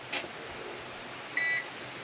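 A backup power unit with its fridge plugged in sounds one short, steady electronic beep to signal a power loss, clear against faint room hiss and otherwise quiet.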